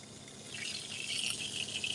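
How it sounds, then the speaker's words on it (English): Steady broadband hiss of food sizzling in a pan, continuous and fairly close, with no talking. "You hear that sizzle?"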